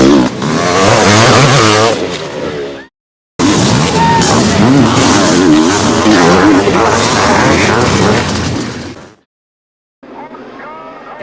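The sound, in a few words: Kawasaki KX500 motocross motorcycles racing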